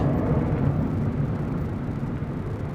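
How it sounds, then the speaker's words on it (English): A Dassault Falcon 50 jet departs Dallas Love Field, heard as a steady, broad rumbling roar from a distance that gradually eases off, with no talk over it. "That was a Dassault Falcon 50"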